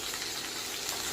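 Ivy gourd pieces frying in hot oil in a pan with mustard seeds, urad dal, cumin and onion, giving a steady, bright, close-up sizzle that holds evenly throughout.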